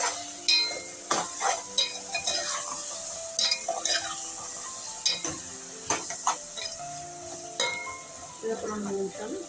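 Ginger garlic paste and two or three green chillies fry in a pan, a low sizzle punctuated by frequent, rhythmic clicks and scrapes of a utensil against the metal.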